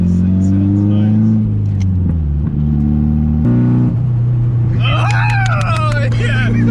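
A Nissan 240SX engine revs up and settles with a throaty drone from inside the cabin, the pitch climbing and falling; squealing noise joins near the end.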